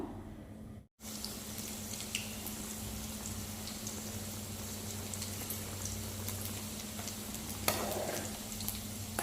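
A pot of small tubers (sirukilangu) boils in salted water with a steady soft bubbling hiss and low burner hum, faint and continuous, with a brief dropout near the start.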